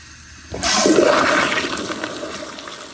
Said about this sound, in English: Now I'm gonna do more of a close-up flush.